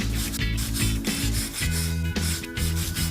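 Joint surfaces being rubbed clean in preparation for a two-part polysulphide sealant, producing a close, loud, rhythmic scraping with repeated back-and-forth strokes and no speech.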